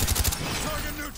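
Rapid-fire SMG shooting in Black Ops 1 multiplayer, a quick string of about four sharp shots at the start of the clip, then a duller layer of game noise.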